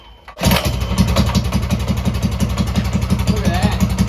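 A vintage minibike engine catches and fires up suddenly, then settles into a loud, steady, rapid chugging idle close by with a regular pulsing rhythm.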